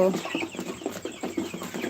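Tiger breed meat chickens cluck at night feeding time, with close, repeated short clucks in an uneven rhythm from several birds.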